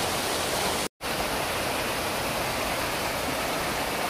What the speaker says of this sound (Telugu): పెద్ద అడవి మధ్య ఇంత మంచి వాటర్ ఫాల్ ఉండడం చాలా గొప్ప విషయమే